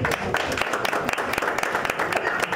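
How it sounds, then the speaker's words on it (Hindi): Applause for an actress at a Bhojpuri film launch event, a dense run of clapping from a gathered audience, with a voice talking over it. "एक जोरदार ताली प्लीज"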